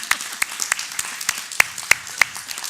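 Scattered, distinct claps from a small audience at a community National Night Out awards presentation, spaced unevenly and crisp, with little cheering evident.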